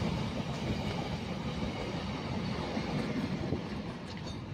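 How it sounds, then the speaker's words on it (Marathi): A long goods train rumbles past nearby at a railway station in a steady, continuous roar, with wheels clattering over the rails throughout. "किती लंबी आहे मालगाडी, अजून पण चाललेली आहे।"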